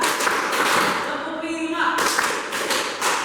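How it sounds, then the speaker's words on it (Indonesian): Group of pupils in a classroom clapping along in a counted sequence, the claps blurring into a dense patter under a talking voice, with a short pause midway. "Tepuk satu, tepuk dua, tepuk tiga, tepuk keempat"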